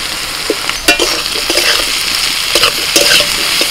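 Vegetables with chopped tomato fry in a pan, a loud close sizzle punctuated by several sharp spatula scrapes and knocks against the metal at irregular intervals.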